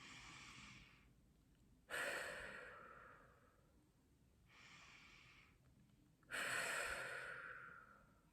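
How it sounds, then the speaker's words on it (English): Two long, deep breaths drawn slowly, each inhale rushing in sharply and then easing out in a softer exhale, quiet and close with no talking. "Take like good 3 to 5 long deep breaths."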